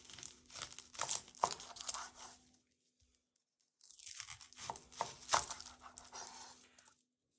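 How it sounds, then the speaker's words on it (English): A sharp knife slicing the ends off an onion on a board, close crisp crunching and crackling cuts in two bursts separated by a brief silent pause. "grab a sharp knife, holding it with a nice firm grip, and cut the ends off both sides"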